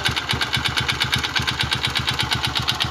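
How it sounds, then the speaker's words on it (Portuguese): A motorcycle engine with its 190 kit removed, now stock, runs in a steady rapid idle with regular crackling pops, loud and close, with no talk over it. "Cadê o barulho do motor de novo? Fica estralando."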